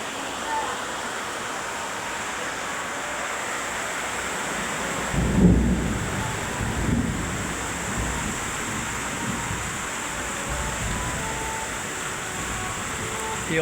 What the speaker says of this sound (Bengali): অঝরে বৃষ্টি পড়ে যাচ্ছে দেখুন কি ব্যাপক মেঘ করেছে আর তেমনি তার আকাশের গর্জন দেখুন